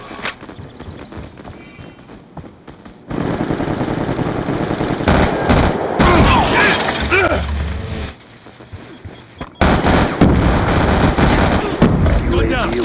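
Automatic gunfire and explosive bursts from a multiplayer shooter game, sustained and loud in waves, with voiced squad callouts heard over the combat.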